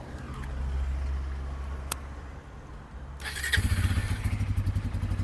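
A motorcycle engine cranks and catches, settling into a loud, close, rapid idle with a throbbing putter.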